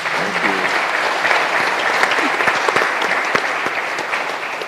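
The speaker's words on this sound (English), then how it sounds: "A round of applause for my panelists today." A room full of people at a panel discussion claps steadily for several seconds, a dense, even patter of applause.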